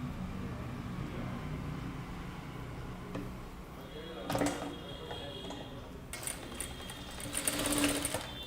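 Sewing machine stitching a kurta, its steady ticking whir running low under room noise, with a few louder mechanical bursts toward the end.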